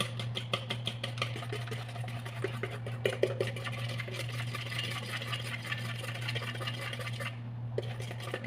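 An electric mixer or blender whirs continuously while blending cookie batter with sugar, a steady motorized drone with light rattling and scraping from the bowl, stopping briefly near the end.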